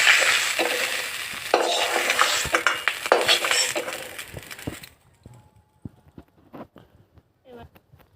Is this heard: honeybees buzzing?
no